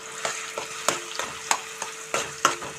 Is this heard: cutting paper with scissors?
no